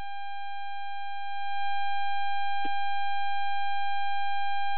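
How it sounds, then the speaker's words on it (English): A mobile phone rings with a steady electronic tone of stacked pure pitches, holding unbroken through the whole stretch, with a short burst of room noise partway. "Uh-oh, sounds like somebody's phone."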